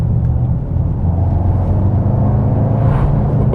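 The engine of a 2021 Mercedes-AMG E63 S sedan in comfort mode gives a steady, loud, deep rumble that holds even throughout, close by and alone.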